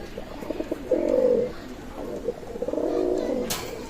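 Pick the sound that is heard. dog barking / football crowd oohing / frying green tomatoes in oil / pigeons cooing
pigeons cooing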